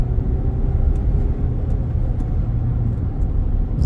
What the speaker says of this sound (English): I'm sure you can hear the turbos from that EcoBoost